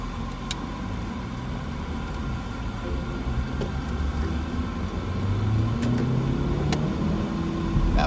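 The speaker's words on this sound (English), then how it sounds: "That 4-cylinder does pull very nicely." Porsche Macan SUV with a 4-cylinder engine accelerating, a steady low engine rumble and road noise building slightly toward the end, with no voices.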